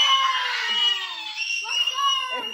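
A young child screams loudly and shrilly at a backyard third-birthday party with a splash pad, sustained high-pitched shrieks in several bursts, close to the microphone.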